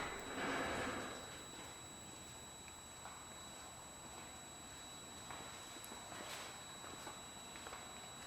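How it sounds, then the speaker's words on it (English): A stepper idle air control valve buzzes from its PWM holding current on an LS truck engine run by a MegaSquirt 2, a faint, steady high-pitched electrical whine over a low background hum. "The pulse width modulation is making that buzz."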